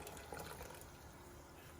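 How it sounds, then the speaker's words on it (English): Water mixed with black Wilton food coloring dye is dumped into a container for yarn dyeing, a short continuous gushing pour heard close up and alone. "the water with the dye, I'm going to just go ahead and dump everything in."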